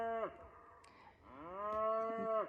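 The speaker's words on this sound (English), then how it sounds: "Cows are very vocal this morning." Cows mooing on a July morning, one long, drawn-out moo following a shorter call, near and fairly loud against quiet outdoor surroundings, with no talk.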